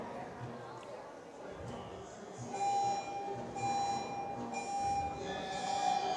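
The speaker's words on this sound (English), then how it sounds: "The buzzer rings out." Faint electronic buzzer tone rings out at a youth bouldering climbing competition finals, a steady beeping pitch over crowd murmur and commentator voices.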